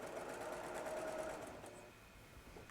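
A sewing machine runs a straight stitch, a quiet, rapid, even mechanical whirr that fades slightly toward the end.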